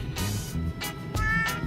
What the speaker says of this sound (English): Oh, look at the cat.